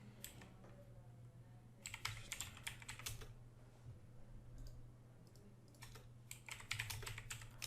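Quiet, close clicking on a computer keyboard in short bursts of rapid keystrokes separated by pauses, over a low steady hum.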